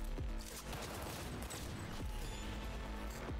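Gunfire from a headshot in Cyberpunk rings out amid a dense, loud combat mix, with sharp shots rising out of a constant wash of game noise.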